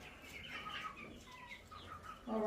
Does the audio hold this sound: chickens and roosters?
yes